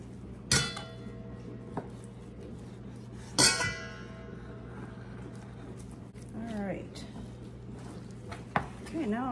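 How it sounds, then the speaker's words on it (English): A knife cuts pork strips into chunks on a board in a home kitchen, with two sharp chops standing out among quieter taps, clinks and shuffling, set against a low steady hum. "So I am going to get these strips all cut."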